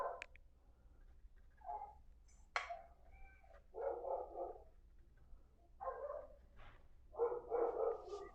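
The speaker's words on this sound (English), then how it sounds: "We've got a couple of dogs that have moved in next door. And our dog's going crazy." Dogs barking next door, several faint, distant bursts of barks and yips spaced irregularly, muffled as if heard from outside.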